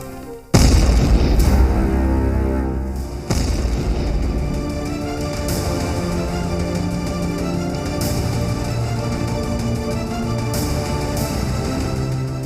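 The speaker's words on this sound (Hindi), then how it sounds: "दरभंगा में धमाका" A sudden heavy boom bursts in near the start, followed by a second impact and a long ringing, reverberant rumble that lingers under layered dramatic tones.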